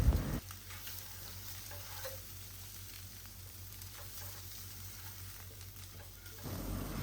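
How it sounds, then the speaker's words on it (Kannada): Egg frying in oil on a low flame with salt, chilli powder and turmeric, a steady close sizzle and crackle running throughout with a few soft stirring scrapes and no talking. "ಈಗ ಎಗ್ ಫ್ರೈ ಮಾಡ್ಕೊಳ್ತೀನಿ."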